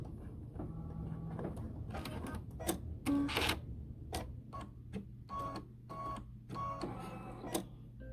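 An embroidery machine stitching out the last section of a towel design: quiet rapid mechanical tapping and clattering in short bursts, with a steady low motor hum underneath and no talk.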